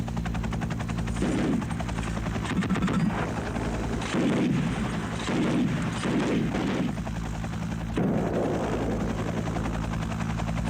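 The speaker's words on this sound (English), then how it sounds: "the helicopter strikes the easiest target available, a nearby village." Mi-8 helicopter attacking a village, a steady rotor and engine drone with repeated bursts of gunfire and heavy impacts throughout, loud and close.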